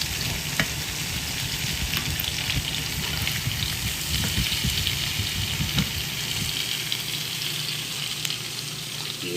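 Country fried potatoes crackle and sizzle steadily in a hot pan just after being flipped. The frying is close and continuous, with occasional scraping ticks and no voices.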